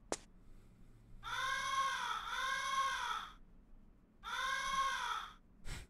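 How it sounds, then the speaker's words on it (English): A squawking bird cry from the video game Chulip: two long, harsh, harmonic-rich calls, each about two seconds, separated by a pause, loud and alone against near silence, with a faint click at the end. "That freaking bird noise."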